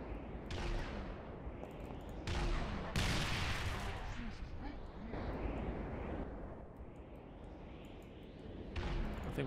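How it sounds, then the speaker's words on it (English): Gunfire rattles through a firefight as UNSC marines raid a Covenant base during the Fall of Reach in a Halo game, with repeated sharp bursts and volleys over a constant rumbling battle din, fairly quiet overall. "I thought this was one hell of a firefight"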